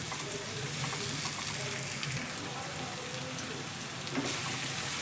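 Chopped onions sizzling in hot oil in a pan for crab curry, a steady close crackling hiss throughout with faint stirring scrapes, no speech.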